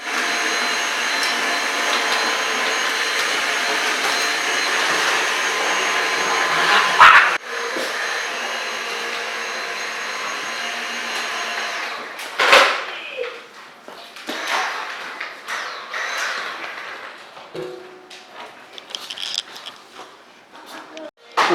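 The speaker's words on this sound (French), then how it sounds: "avec leur propre aspirateur" A vacuum cleaner hums steadily for several seconds, then shuts off, leaving scattered thumps and faint voices.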